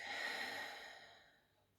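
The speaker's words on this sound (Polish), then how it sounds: "Wydech." A slow, deep exhale during a home breathing exercise: one soft, breathy outbreath close to the mic, fading gradually to silence.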